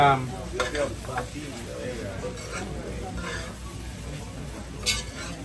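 Guyanese fried rice being stir-fried in a pan, with a soft sizzle under clattering scrapes and clinks of a utensil against the pan, while people talk throughout.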